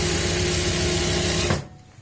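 A sewing machine runs fast and steadily while stitching elastic into pants, a loud close whirring that stops sharply near the end, leaving quiet.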